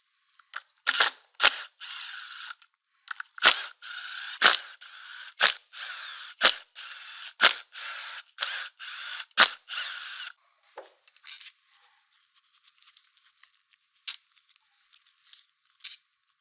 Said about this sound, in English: Remove the timing cover screws.